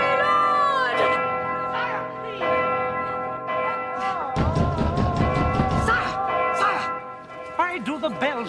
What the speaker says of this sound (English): Why do the bells ring? The hour of the wedding has not arrived.